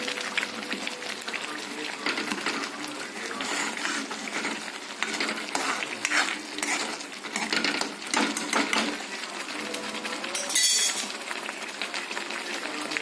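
Okra curry in a pan being stirred after turmeric and salt go in, a steady scraping and sizzling texture that runs continuously and fairly loud, with a brief brighter clink near the end.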